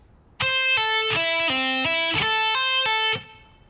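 Electric guitar playing a fast, technical arpeggio lick with a bright, lightly driven tone; a steady run of crisp, sustained notes rises and falls in a clear pattern, loud and close, with no talking.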